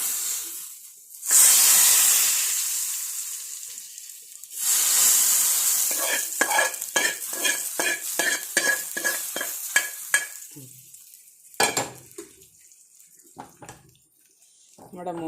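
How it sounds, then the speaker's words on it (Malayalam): Buttermilk curry boils in a pot on the stove, with loud bursts of hissing bubbling followed by a quick run of rhythmic clattering and spluttering, then fading quiet. "ഇത് കറി തിളച്ച് ഇങ്ങനെ പൊങ്ങി ചാടുമോ എന്ന് സംശയമുണ്ട്"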